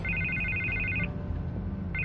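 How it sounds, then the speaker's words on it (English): A telephone rings in the Batman Telltale game, a rapid trilling electronic ring that lasts about a second, pauses, then starts again over a low steady background rumble. No one talks. "I can't get the phone to stop ringing."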